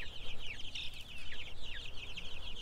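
One-week-old broiler chicks keep up a continuous, busy chorus of high, quick cheeps and chirps nearby, many overlapping with no pauses.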